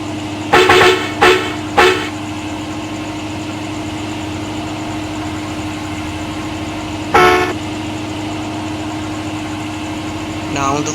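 A stock Hino 500 truck engine idles with a steady low drone, broken by several short loud bursts of revving near the start and another around the middle, all close and clear.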